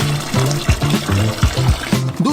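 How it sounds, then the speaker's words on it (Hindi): Water pours into a plastic tub set out for coating ostrich legs, a loud gurgling, bubbling flow with rhythmic glugs and splashes, no voices. "पहले में हम पानी भरते हैं।"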